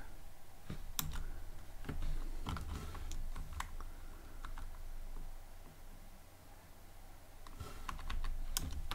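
Steady typing on a computer keyboard while writing code, quick irregular key clicks with short pauses, close and moderately quiet, with no talking.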